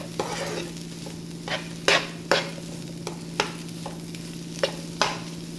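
Six to eight crushed garlic cloves frying in a pan for aratikaya fry, a soft steady sizzle broken by about eight sharp scrapes of a stirring spoon, close and clear with no talk.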